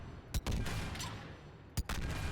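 Slow, heavy assault rifle shots from Mass Effect 3, a Viper-style weapon in assault rifle form, fire two loud, widely spaced booming reports over a steady bed of game background noise.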